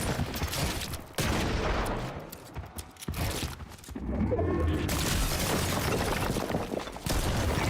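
Video game gunfire bursts out in dense, loud volleys over a busy background mix of game sounds, with short gaps between the bursts.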